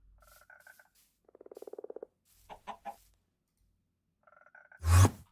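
Minecraft frogs croaking in a game, a run of short throaty croaks and a rapid rattling burst, ending in a sudden loud low thump, with no talk.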